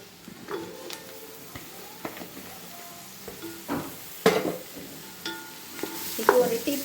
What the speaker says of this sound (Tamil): நம்ம வச்சுருக்க காளான் இதில் போடுறோம்.